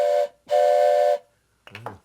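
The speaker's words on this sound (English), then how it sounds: "You got your train whistle." A toy train whistle blown twice, a short blast and then a longer steady hoot with a bright reedy tone, loud and close, followed by a brief voice.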